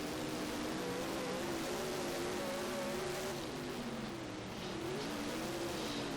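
Late model race cars roar around the dirt oval at Eldora in a west coast late model series night race, a steady loud engine drone with wavering pitch as the cars run the final laps, no talk.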